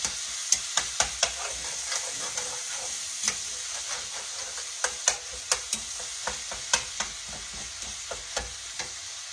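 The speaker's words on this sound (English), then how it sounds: "Okay, it's getting to fry really good." Ground meat sizzles and browns in a pan under a constant hiss, punctuated by a string of sharp clacks and scrapes as a spatula chops and stirs it.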